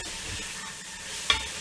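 Oil sizzles and crackles steadily in a hot pan as satay meat fries, with a brief sharp clink of a utensil near the end.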